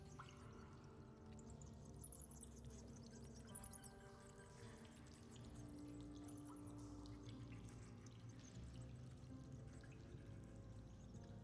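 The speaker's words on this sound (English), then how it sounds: "you do hear those drops of water" Water drops falling in a dark forest setting from a horror audio drama, a steady scattered patter of drips against a low ambient hum, with no talking.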